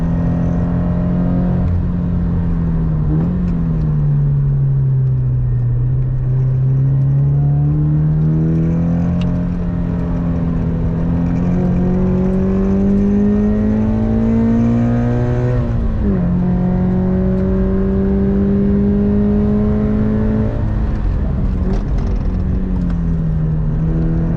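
A car driving warm-up laps at Queensland Raceway during professional driver training, heard from inside as a steady engine drone that rises and falls with gear changes and acceleration.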